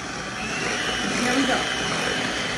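Cheesecake batter being beaten with an electric mixer after the final egg goes in, a steady close whirring drone running throughout with a slight rise in the middle.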